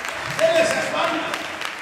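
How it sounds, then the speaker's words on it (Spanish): A church congregation clapping along during a thanksgiving service, a brief, fairly loud burst of steady rhythmic clapping from many hands in a reverberant hall. "Dele esas palmas"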